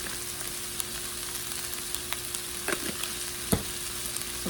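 Food frying in a pan while being stirred at home, a soft constant sizzle with light scraping clicks and a couple of sharper utensil knocks, fairly quiet and close.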